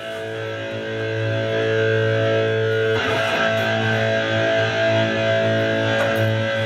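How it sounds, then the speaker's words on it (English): A heavily distorted electric guitar through an old tube amp rings out with sustained, buzzing chords, loud and continuous with a gritty tone. "This is old tube sound you're hearing."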